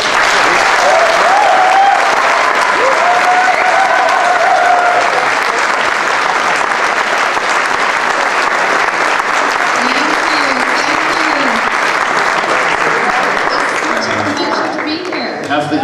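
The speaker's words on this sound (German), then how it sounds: "auf jeden Fall einem sehr angemessenen, freundlichen Applaus, unsere Ruth Elliott" An audience at a convention in Austria gives Ruth Elliott a warm welcoming round of applause, dense sustained clapping from a large crowd near and loud for many seconds, with a presenter's voice heard over it.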